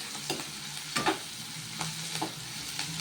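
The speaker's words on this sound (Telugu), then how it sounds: "చూసారా ఫ్రెండ్స్, ఎంత బాగా కుక్ అవుతుందో. ఇలాగే ఫ్రై చేసుకోండి." Egg biryani ingredients frying in a pan, giving a quiet continuous sizzle broken by a few scattered scrapes and clinks of stirring, with no one speaking.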